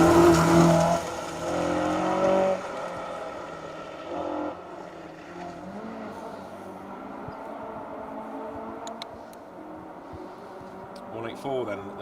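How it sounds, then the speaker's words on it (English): A BMW rally car on a forest stage sweeps past with a loud engine roar that fades into the distance, while a commentator talks over it throughout. "Then the flamboyant BMW of Lee Cooper and Jamie Butch Wilson."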